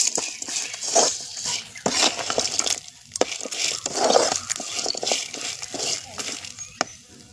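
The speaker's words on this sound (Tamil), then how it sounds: "கொஞ்சமாக புளியும் போட்டு வதக்கிக்கலாம்." Onion, garlic and coconut sauté in a pan for a chutney, crackling and sizzling steadily with stirring scrapes and soft crinkles, close up, while someone speaks over the cooking.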